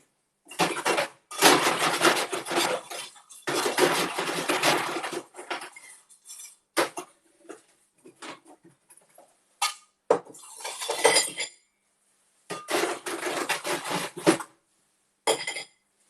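Ice rattling hard inside a cocktail shaker as an amaretto sour or daiquiri is mixed at a bar, heard in loud, rapid bursts of clinking separated by short pauses.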